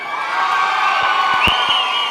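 A live audience at a Tamil television stage event applauds and cheers loudly for a guest on stage, a dense continuous roar of clapping with shouts and whoops.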